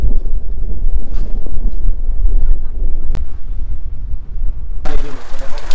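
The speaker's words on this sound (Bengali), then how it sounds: "প্রচণ্ড জোরে জোরে হাওয়া দিচ্ছে, বৃষ্টি পড়ছে, সমস্ত কিছু একসাথে হচ্ছে।" Strong gusting wind with rain at Tinchuley viewpoint near Darjeeling, loud buffeting roar across the microphone throughout with a brief sharp click partway.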